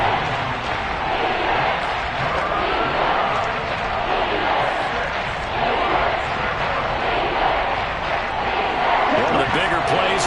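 Stadium crowd at an American football game roars steadily and loudly throughout, a dense continuous swell building ahead of a big third down.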